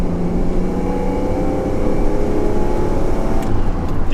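A 1997 Chevrolet Camaro engine held at full throttle, a loud continuous low roar with steady harmonic drone, heard close from inside the car with no pause.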